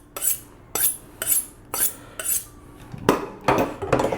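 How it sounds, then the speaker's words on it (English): A big kitchen knife is sharpened with about eight crisp metallic scraping strokes in a steady rhythm, the last few quicker and heavier, close up, with no talking. "Sharpen her up."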